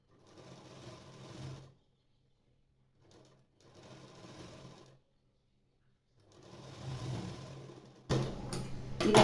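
Sewing machine stitching a blouse, running in three separate bursts of steady mechanical whirring and ticking with short quiet pauses between, close and moderately loud.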